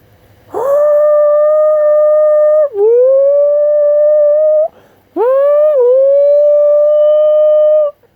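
A human voice imitates a howl heard at night, with two long, loud, sustained wavering howls, the first breaking briefly mid-call, close up with no other sound.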